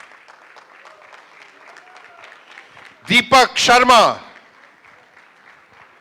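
An awards ceremony audience bursts into loud applause for about a second, rising suddenly over a steady crowd murmur, while an announcer's voice calls out names.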